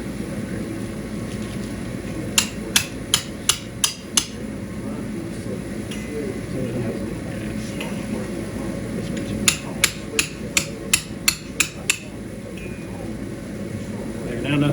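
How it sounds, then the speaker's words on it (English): A chisel tapped with a hammer to nudge a piece into adjustment: two quick runs of about six sharp, ringing taps each, close and loud over a low background hum. "So I'm just going to use a chisel and come in here and adjust this just a hair."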